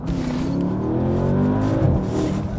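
A Porsche engine revs hard with Sport Response at full power, a loud, sustained rising roar heard from inside the moving car, with no talk over it.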